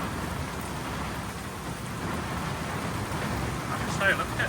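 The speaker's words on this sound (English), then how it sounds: "We don't normally have storms this bad this often." Heavy thunderstorm rain pours steadily outdoors, a dense continuous hiss with low rumbling thunder underneath, swelling slightly near the end; no talking.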